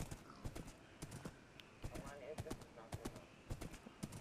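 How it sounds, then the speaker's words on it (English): Horse hooves clip-clop in the video game Minecraft, a quiet, irregular stream of sharp clicking steps across several seconds with the odd louder pair of knocks, heard alone without talk. "Horse is right here."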